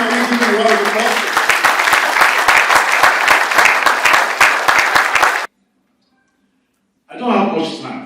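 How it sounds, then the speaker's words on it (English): An audience applauds a speaker taking the stage at a conference, loud dense clapping from a crowd lasting several seconds before cutting off, followed by a voice beginning to speak. "Please can we give him a round of applause?"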